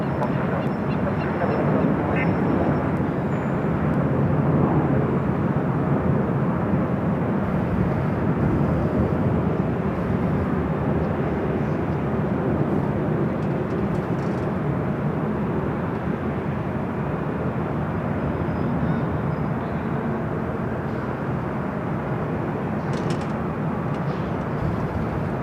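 Jet aircraft at Los Angeles LAX airport roar steadily from mid-distance, a broad continuous engine rumble and whine lasting the whole stretch with little change in loudness.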